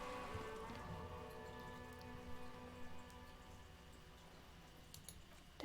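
Steady rain from the detective game Disco Elysium falls throughout, a soft continuous hiss with faint droplet ticks over a low hum, with no voices.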